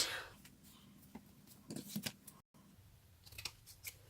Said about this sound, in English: So I'm just going to cut down how much I need.